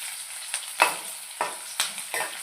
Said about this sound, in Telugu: మెంతులు వేసాం కదా ఆనియన్ అందులో వేగుతాం కాబట్టి స్మెల్ వస్తుంది బాగా